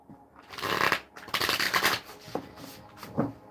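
A deck of reading cards is shuffled by hand in two long riffling bursts, followed by softer taps and slides as cards are pulled, close and clear with no talking.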